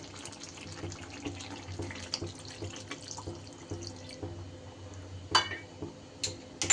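Hot water is poured into a simmering pan of gravy for a Bengali dish, giving a soft, uneven trickle and splash close by, with a few sharper clinks near the end.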